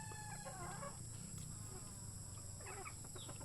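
Fighting cocks of Texas breeding, including an unbeaten talisay rooster, cluck and make short calls, with overlapping bird noises in a busy poultry yard amid steady background hum.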